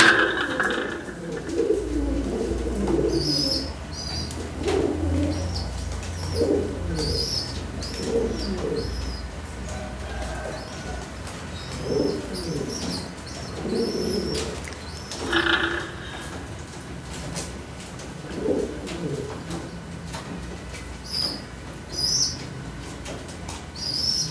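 Pigeons cooing in a loft, several soft low coos repeating irregularly throughout at moderate loudness, with some chirps and faint mechanical background sounds.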